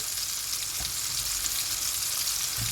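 Scored cherry tomatoes sautéing in a pan make a loud, continuous sizzle with occasional low knocks, close up and without talk.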